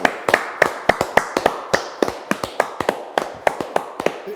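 Sharp hand claps land close and loud in a quick, slightly uneven rhythm, about twenty strikes in a few seconds with no voices over them.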